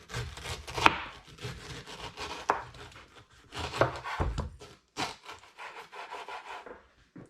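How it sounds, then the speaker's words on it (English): Knife cuts around the core of a descaled pineapple, giving scraping, rubbing strokes in irregular bursts with a few sharper knocks against the board, close and fairly clear, with no talk. "Once the outside has been broadly descaled, you've got to cut around the core here."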